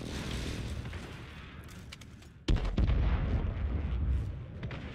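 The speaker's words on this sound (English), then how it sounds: "Airstrike on the house I'm in." An airstrike in Call of Duty Warzone lands with a sudden heavy boom midway, followed by rumbling explosions and rolling blasts that stay loud and dense, preceded by lighter distant gunfire.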